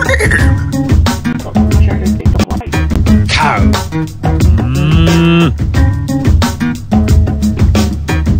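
Loud cartoonish cow moos from the video game Pumkinland, repeated low drawn-out calls over a busy, constant game soundtrack with no pauses.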